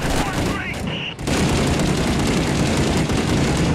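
Heavy, continuous gunfire from the Six Days in Fallujah combat game roars loudly, a dense barrage that drops out for a split second before pounding on, with voices mixed in.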